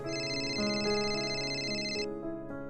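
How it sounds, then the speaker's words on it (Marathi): A phone rings with a bright electronic melody of sustained tones, loud and close, the tune changing pitch in steps before cutting off. "आता कोणाचा फोन."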